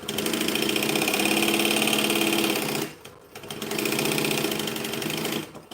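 A sewing machine stitches and back-stitches bonded nylon fabric for a sporty bag. It gives a loud, close, buzzing run, stops briefly, then starts a second run.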